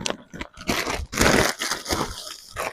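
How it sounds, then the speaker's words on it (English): Plastic shopping bags crinkling close up while purchases are packed back into them, in bursts of crackling rustle that swell and fade, with a longer loud crumple in the middle. "There might be a little bit of crinkling."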